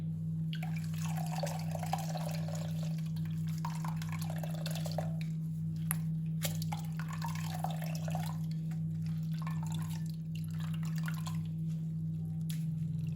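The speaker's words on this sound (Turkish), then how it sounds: "karpuzun diğer yarısını da aynı şekilde süzüyorum" Watermelon juice drips through cheesecloth in soft, irregular wet drops. A steady electrical hum runs beneath it in a quiet kitchen.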